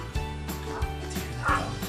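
A dog barks in short, close bursts, three or four yips and bow-wows in a couple of seconds, indoors during a home question-and-answer session.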